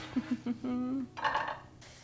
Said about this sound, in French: Pour sortir les aubergines, le mieux c'est de prendre une fourchette.